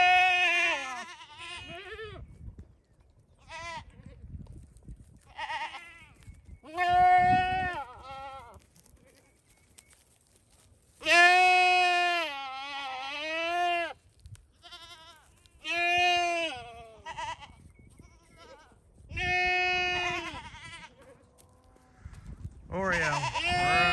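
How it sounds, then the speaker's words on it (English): Goats on a farm bleating loudly in repeated wavering calls, several overlapping bursts spread across the span, with people talking between and under the animal cries. "we'll show you guys the goats"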